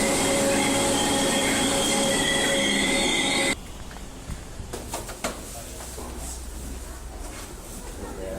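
Loud, steady rumble of a passenger train in motion near Liverpool, with wheel noise and rattling; midway it drops to a quieter cabin hum with occasional clicks and thumps.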